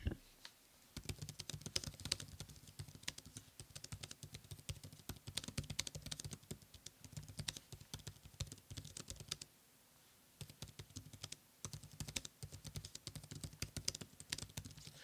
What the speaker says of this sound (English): It feels just like typing on a Surface keyboard to me